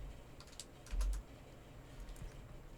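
Soft typing on a computer keyboard while entering a SQL join, a quick cluster of light key clicks with one firmer tap, faint and close.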